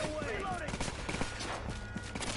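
Gunfire crackles in the video game The Division, rapid scattered shots and bursts heard at moderate distance beneath someone talking throughout.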